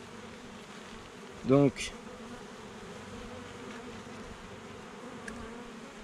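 Honey bees hum in an opened hive, calm after a single puff of smoke during a spring inspection, a soft continuous drone with one bee buzzing briefly close by.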